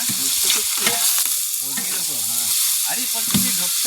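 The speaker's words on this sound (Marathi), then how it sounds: "चिकनची फोडणी दिली आहे" Chicken tempering sizzles loudly in a pan at a village gathering in Konkan, with steady frying hiss and stirring scrapes, while voices talk faintly underneath.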